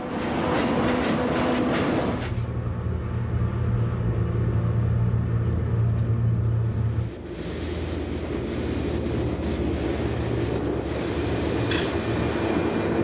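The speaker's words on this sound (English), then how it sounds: "With the rack now helping with the braking of our train, we begin to descend." A rack railway train on the Glacier Express route in Switzerland rolls steadily downhill, the rack helping with braking, with a heavy mechanical rumble and whine, a low droning tone easing partway through, with faint clanks and squeals.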